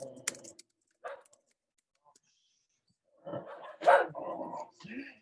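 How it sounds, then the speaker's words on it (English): Several dogs bark in short, loud bursts indoors, a few isolated yaps followed by a busier cluster of barking near the end, with no talk over them. "as my dogs totally whack out"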